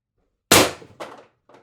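A single sharp shot from a Pistelle X-68 Punisher foam blaster fitted with a Huben power stock and ADN X18 drum mag, a loud crack with a decaying ring, followed by two fainter mechanical clacks.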